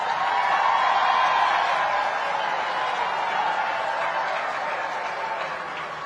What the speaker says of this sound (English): She's female, we need another applause.